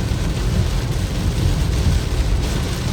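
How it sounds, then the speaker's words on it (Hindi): Heavy rain pours down in a continuous loud, dense roar with a deep low rumble underneath, heard from inside a car, with no talking. "बहुत बारिश, बहुत शदीद बारिश।"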